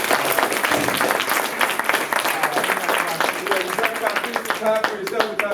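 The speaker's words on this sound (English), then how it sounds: "Everybody give them a big round of applause." An audience applauds the panelists at an evening community panel discussion about schools, a dense, steady wash of many hands clapping that holds at full strength for several seconds.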